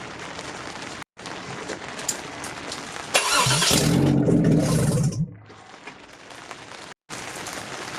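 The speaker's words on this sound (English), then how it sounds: "I'm gonna try starting it. I don't have the alternator installed. I also don't have the exhaust on" A 1999 Acura RL engine with no exhaust or alternator fitted cranks and catches with a loud, raw, unmuffled roar for about two seconds, then cuts off, leaving a quieter hiss of background noise.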